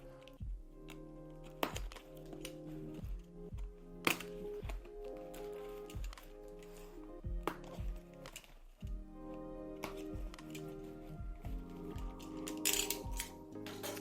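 Annapro strap box for the Apple Vision Pro being opened, with repeated soft thunks, taps and scraping handling noises of packaging at close range, irregular and fairly quiet, without speech.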